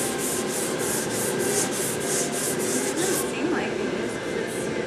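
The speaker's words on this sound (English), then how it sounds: "Might be too early to sand it, but we'll see what happens." Hand sanding of a glazed surface in a workshop, a steady series of rhythmic rubbing strokes close by for about three seconds, then softer continued scrubbing with faint background noise.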